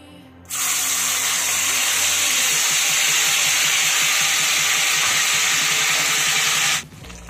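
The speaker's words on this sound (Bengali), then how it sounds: "এবার আমি দিয়ে দেব বানিয়ে রাখা মশলার পেস্টটা।" Spice paste for shahi paneer hits hot oil in a pan and erupts into a loud, bright, sustained sizzle that holds steady for several seconds before cutting off abruptly.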